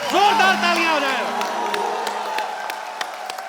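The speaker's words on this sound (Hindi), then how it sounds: "जोरदार तालियां हो जाए" A television comedy talk show's studio audience applauds, with a patter of claps and some cheering after a brief voice at the start.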